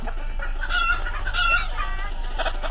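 Chickens in a video game cluck and squawk loudly at close range, several agitated calls in quick succession.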